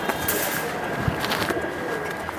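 Running pigeons at a busy pigeon market coo softly amid a noisy, crowded background, their low calls partly masked by general market bustle.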